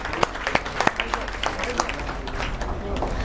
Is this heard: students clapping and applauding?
yes